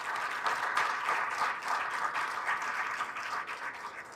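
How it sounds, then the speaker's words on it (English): A crowd at a luncheon claps in sustained, even applause for several seconds, heard from a moderate distance with no voices standing out. "one more round of applause for the incredible"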